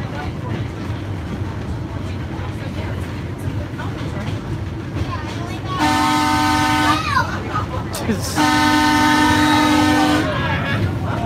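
A Colebrookdale Railroad heritage train sounds two long whistle blasts over the steady rumble of the ride, with a brief gap between them, loud and close.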